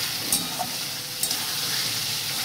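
Chicken stew simmers and sizzles in a pan while being stirred, a steady frying hiss with a few light scrapes of the spoon, close and continuous.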